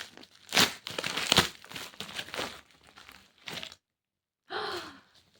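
Broadband crinkling bursts of a small plastic packet from a Temu order being handled close up, several rustling crackles, then a brief pause and a final short crinkle.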